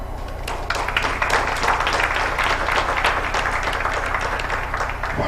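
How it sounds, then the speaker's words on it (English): An audience at a gathering of the African Audio-Visual and Cinema Commission applauds steadily, dense clapping holding at a fairly loud, even level with a slight swell after the first second. "qu'on les applaudisse"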